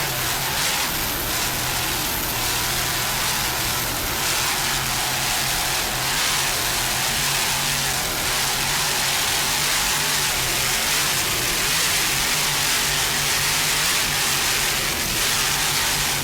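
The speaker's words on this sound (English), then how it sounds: "Nice throttling there by Mr. Art Lilly. Just listen to those Sterling inboards." Sterling inboard engines of an offshore racing powerboat at the 1997 Chicago Offshore Grand Prix, a loud, sustained, steady roar with hissing spray-like noise, held at high throttle throughout without pauses.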